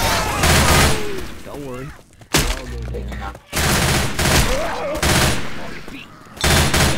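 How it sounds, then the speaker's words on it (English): Machine gun fire in Left 4 Dead 2, loud rapid bursts repeating across several stretches with brief pauses, mixed with game sounds and a short spoken line. "Grabbing a machine gun!"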